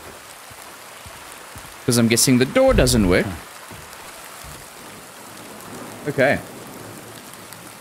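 Steady rain falls on a garden at night in the Silent Hill 2 Remake video game, a soft constant hiss of drops heard under a man's brief speech.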